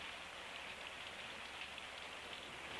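Steady rain falls in a constant, even hiss of many drops on surfaces, soft and unbroken throughout with no voices.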